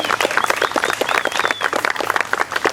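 A crowd at an outdoor charity walk for OCD awareness in Atlanta bursts into dense, loud applause, a steady rush of many hands clapping with a few whoops mixed in.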